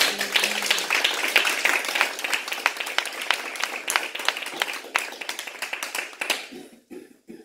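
A congregation at a French-language church service applauds to acclaim the word of God, with dense, steady clapping that carries for several seconds, then thins out and fades to a few scattered claps.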